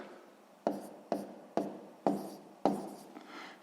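Pen writing numbers on paper for a subtraction sum: five or six quick, distinct scratching strokes spaced about half a second apart, close and faint in a quiet room.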